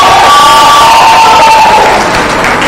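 Loud crowd cheering and applause at a physiotherapy profession induction ceremony, a dense sustained roar of voices and clapping with whoops on top that carries on throughout.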